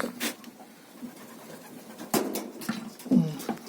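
Pigeons coo softly at close range while being fed on a Sunday, with a few short cooing bursts and light scratches over quiet background.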